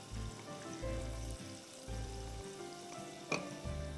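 Pieces of chicken frying in a pan of oil for Thai sweet chili chicken give off a steady close hiss, with low rumbling bursts pulsing on and off and one sharp clink near the end.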